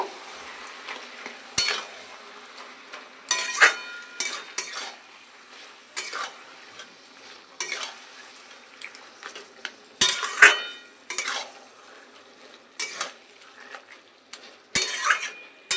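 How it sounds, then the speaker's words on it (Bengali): Taro leaves cooked down with green chili in a pan, stirred with a utensil that clacks and scrapes in irregular bursts against the metal over a faint sizzle, close up, no talking. "কাঁচা লঙ্কা দিয়ে ভালো করে কচু শাকটা নেড়ে চেড়ে শুকিয়ে নেব"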